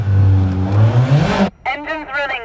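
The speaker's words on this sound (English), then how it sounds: "Engine's running now" A blue Kawasaki ZXR motorcycle engine revs loudly and close, its pitch climbing for about a second and a half before cutting off abruptly. A voice then speaks over a low background hum.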